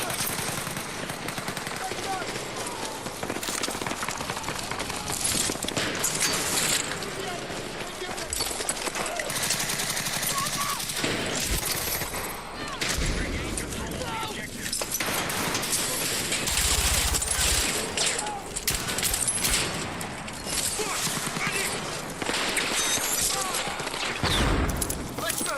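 Rapid automatic pistol fire in the shooter game REDSEC, loud bursts chattering through a dense game mix of other gunfire and effects, with speech in the background throughout.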